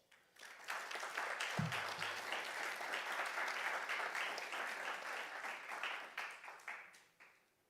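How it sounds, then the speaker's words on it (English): An audience at a weather event applauds in a sustained, even round of clapping that swells quickly, holds steady and tapers off toward the end. "I would appreciate it if you all would give a round of applause"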